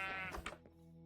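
A single sheep bleat from Minecraft Java Edition, a short wavering cry close up that cuts off and leaves faint game ambience behind it.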